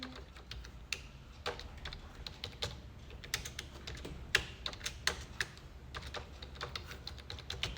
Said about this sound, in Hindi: अगेन यहाँ पे यूजर नेम और पासवर्ड लिखेंगे